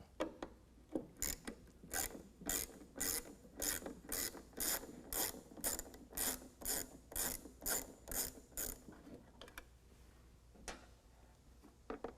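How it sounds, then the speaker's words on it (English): A ratchet driving a T20 Torx bit backs screws out of the mass airflow sensor on the stock airbox of a 2022 Chevy Silverado 1500 6.2L V8, giving a steady run of close, crisp ratcheting clicks in regular bursts that stop near the end. "We're going to use a T20 Torx bit to pull those screws out."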